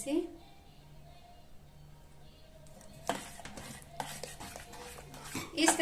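Thick doda barfi mixture with glucose syrup is stirred in a pan. It begins as a quiet hum, then from midway a spoon scrapes and clinks against the metal in uneven, close strokes.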